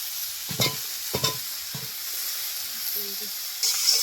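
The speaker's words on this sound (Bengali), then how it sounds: "মোচাগুলো যে সেদ্ধ করা ছিল ওই কলা মোচা, এইগুলোকে আবার একটু ওর সঙ্গে নেড়ে নেবে" Boiled banana flower being stirred while frying in a pan, a low steady sizzle broken by three quick scraping stirs early on, then a soft background hiss with a brief clatter near the end.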